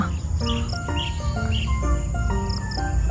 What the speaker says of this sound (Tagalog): Ngayon po may mga insekto na. Insekto parang mga ibon. Mga ibon po pala itong mga lumilipad dito